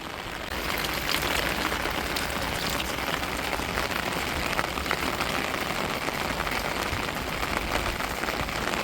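Steady, dense rain pattering on surfaces around a flooded house, an even hiss with scattered louder drops, continuous throughout with no voices.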